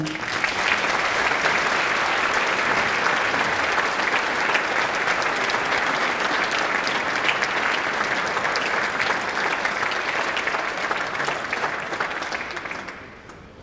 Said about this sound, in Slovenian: Še en močan aplavz, prosim.